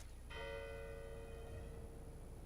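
A church bell in the video game Hitman, struck once by a gunshot, rings out with a bright metallic strike and a long humming decay that fades over about two seconds.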